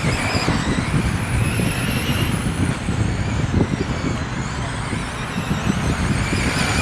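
Race car engines at Toledo during TARCAR end-of-season main events, the leader held at about 30% throttle, make a loud, steady, continuous roar with rumbling low-end texture and no break throughout.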